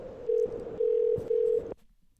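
Over a phone line, three flat electronic ring tones pulse at an uneven pace, and the line then falls quiet.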